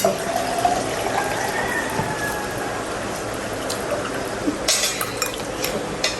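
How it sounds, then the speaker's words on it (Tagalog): Drinking water is poured into a vessel at home, a close, steady splashing stream with light clinks of dishes and no speech. "Kaya si Bal po ay kumuha ng tubig"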